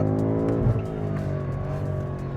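A 2021 BMW M5 Competition's V8 engine pulls hard under acceleration, a dense, steady harmonic roar held close and loud throughout with a slight surge early on.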